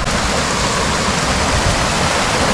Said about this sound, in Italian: qua giù c'è una cascata enorme